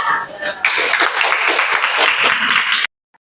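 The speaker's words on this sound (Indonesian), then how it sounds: "Oke, kita beri aplaus dulu ya" A classroom of students claps in applause for a group's presentation in an Indonesian junior high math lesson, a dense burst of clapping lasting about two seconds before cutting off, preceded by a teacher's brief talk.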